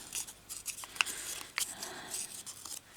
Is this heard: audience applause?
no